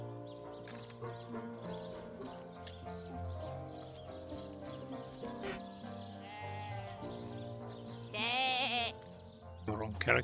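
Sheep bleating in the video game Divinity: Original Sin, several wavering bleats in a row over a busy game soundscape, with a louder bleat near the end.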